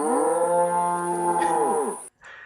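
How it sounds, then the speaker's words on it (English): Layered cattle mooing forms a loud, sustained chorus of long, wavering lows from several cows at once, running about two seconds before a brief drop-out and a short faint tail. "I just had one sound of a cow, so I had to add another sound here to make it seem like many of them were making"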